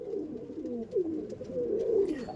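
Andhra pigeons coo softly and continuously, low rolling calls overlapping close by with no other sounds.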